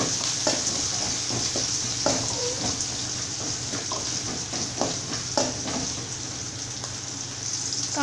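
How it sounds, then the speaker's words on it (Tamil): Onion and curry leaves sautéing in hot oil, a steady close sizzle with frequent scraping stirs of a spoon against the pan throughout. "இப்போ இது எல்லாமே சேர்த்துட்டு இந்த மாதிரி ஆயிலில் வதக்கிக்கலாம்."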